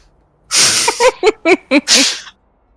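A single loud, close sneeze with a sharp intake and explosive burst, followed by a few quick breathy catches and a trailing exhale.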